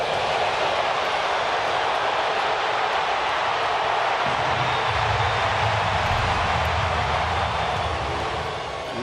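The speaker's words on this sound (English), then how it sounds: "Got that train moving up there." A train rumbles along the track at the Houston Astros ballpark during an Angels game, a broad continuous roar of crowd and machinery that deepens as a low rumble joins midway, with no clear talking.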